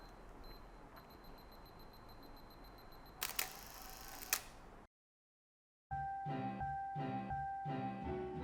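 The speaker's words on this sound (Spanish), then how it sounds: "el timer es súper lindo y te hace una cuenta regresiva ahí. Te va descontando y dispara." Canon T70 film camera, with faint mechanical ticking and whirring, a short burst of sharper clicking, a moment of silence, then a louder, rhythmic series of beeps or ticks from the timer.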